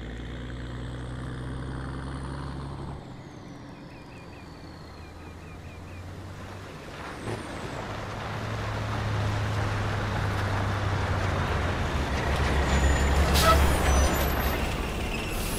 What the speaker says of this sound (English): We're tracking an enemy convoy headed your way. I count 6 vehicles in the convoy, over.